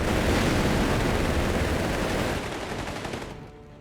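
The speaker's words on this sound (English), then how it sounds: "machine guns on the Panzers" Dense machine-gun fire raking German Panzers in the Company of Heroes 3 strategy game, a continuous loud roar of rapid shots with battle noise that thins out and fades at the end.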